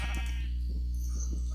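Sheep bleating in a survival video game, a few short bleats over a loud constant low hum and ambient game sound.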